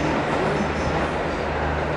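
A train arriving at a station rumbles steadily, loud and close, a continuous low mechanical roar with rattling over a short stretch.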